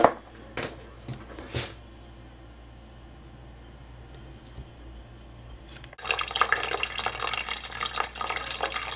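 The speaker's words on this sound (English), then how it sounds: "And then I have my rainwater filling." Rainwater pours into a container through a Berkey filter, starting as quiet trickling and drips, then surging abruptly into a loud, steady gush of running water close by.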